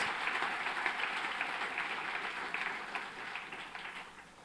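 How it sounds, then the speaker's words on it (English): Steady, fairly faint applause from a convocation crowd honouring MS by Research graduates at IIT Madras aerospace engineering, a continuous wash of many hands clapping at a distance. "give another round of applause for our MS by researcher bodies"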